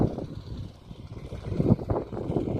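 A tractor pulling a rotary tiller through a farm field in Tayloq district, Samarqand, gives a steady low engine rumble that rises and falls slightly as it works, with no voices over it.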